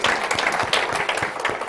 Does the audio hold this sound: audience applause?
yes